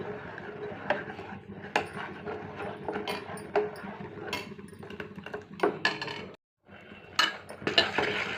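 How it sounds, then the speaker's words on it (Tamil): A spoon scrapes and clinks against a pan as milk is stirred continuously to make palkova. The strokes are repeated and close, with rhythmic metallic scraping and one brief silent pause. "நல்லா கைவிடாமல் கிண்டிக்கிட்டே இருக்கணும்"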